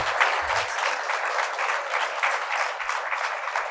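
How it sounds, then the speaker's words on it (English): An audience applauds after a Space Force flag flown on the International Space Station is presented, a dense even round of clapping throughout. "Round of applause"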